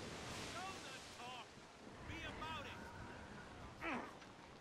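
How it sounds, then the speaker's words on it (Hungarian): Ocean waves and wind wash through a sailing scene in the video game Assassin's Creed Rogue, a low continuous surf rumble under scattered voice sounds, with a brief louder surge near the end. "Kaptunk egy hullámot is."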